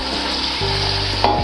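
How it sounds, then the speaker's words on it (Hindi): Chicken biryani masala with yogurt, Shan biryani spice mix, crushed red chili and salt sautéing in a pot, giving a close, continuous frying hiss with some stirring scrapes, no voices. "और अब हम इसकी अच्छे से करेंगे 3-4 मिनट बुनाई"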